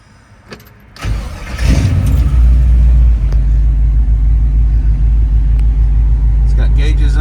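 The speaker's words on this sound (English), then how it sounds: "Car starts easy, runs good." A restored 1965 Chevrolet El Camino with a 350 V8 and automatic transmission cranks briefly, catches and settles into a loud, steady low rumbling idle close by.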